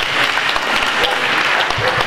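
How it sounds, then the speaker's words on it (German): An audience applauds at an inclusive hiking day event in Frankenau, a brief but thick, steady burst of many hands clapping together at close range. "ein großer Applaus an Naturpark und Nationalpark Kellerwald"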